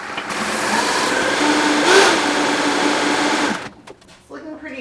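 Kitchen blender whirring while Caesar dressing is mixed, a loud steady motor whine for several seconds that swells slightly mid-run, then cuts off into quiet room sound.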